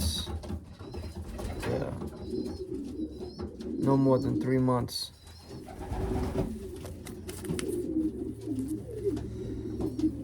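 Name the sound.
young racing pigeon cooing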